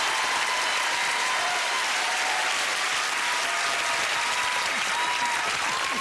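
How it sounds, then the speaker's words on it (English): Studio audience on a TV family game show applauds loudly and steadily, a dense, even wash of clapping that holds for several seconds with no letup. "Give a big round of applause."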